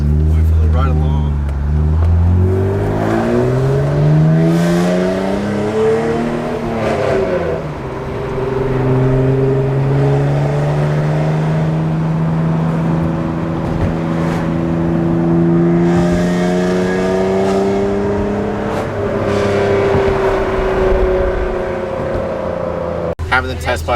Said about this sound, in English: we are in Kavao's 91 NSX, going for the ride along